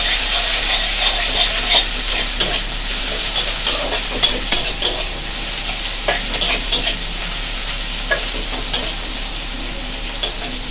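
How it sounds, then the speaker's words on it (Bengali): Onion frying on a low flame for a home chicken recipe, a steady close sizzle with scattered sharp clicks and scrapes of stirring throughout, no talking. "পেঁয়াজটা একদম লো ফ্লেমে ভাজতে হবে, নইলে পেঁয়াজ পুড়ে যেতে পারে।"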